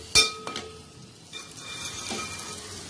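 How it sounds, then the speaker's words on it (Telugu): Ginger garlic paste and onions frying in a pan, a soft steady sizzle broken by a sharp clink of a utensil at the start and a few scrapes of stirring. "పచ్చివాసన పోయేదాకా అల్లం వెల్లుల్లి పేస్ట్ని బాగా వేపుకోవాలి"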